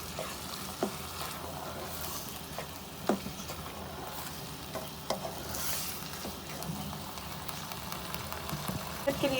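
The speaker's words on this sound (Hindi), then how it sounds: "ये देखिए 10 मिनट हो गए तो ये देखें अच्छी तरह भुन रहा है कीमा।" Minced meat keema with ground garam masala frying in a pan, a steady close sizzle broken by soft scraping stirs at irregular moments, with faint speech in the background.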